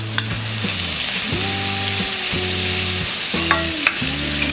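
Chopped vegetables, onion with optional capsicum and grated carrot, frying in a pan, a steady close sizzle with a few spoon scrapes, while a low droning hum rises and falls in the background.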